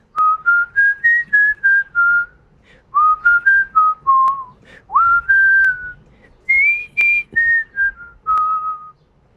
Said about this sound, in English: Can you whistle the part?